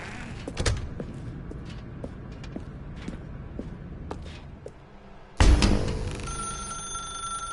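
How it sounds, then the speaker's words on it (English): A telephone rings inside The Stanley Parable game, with a few faint bursts early on and then a loud ring that cuts in suddenly near the end and carries on ringing over a quiet room. "Now pick up the phone"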